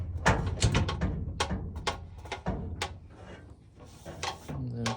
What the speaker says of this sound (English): Set the door on the pin.